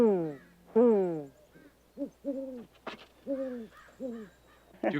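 Owls hooting in a series of mellow, wavering calls, some long and drawn out, others short and paired, fairly close against a quiet outdoor background; a person trading hoots with wild owls.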